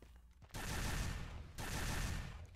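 A link gun firing in Unreal Tournament 4, two sustained noisy bursts of continuous energy fire separated by a brief break, fairly faint and without speech.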